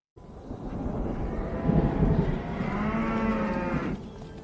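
Cattle moo in a long, deep, loud call that lasts several seconds, close and clear, with no other sound.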